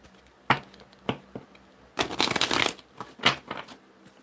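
Numerology cards being shuffled in short bursts: a few quick riffling snaps, then a longer dense flurry of card noise, close and fairly quiet with no talking.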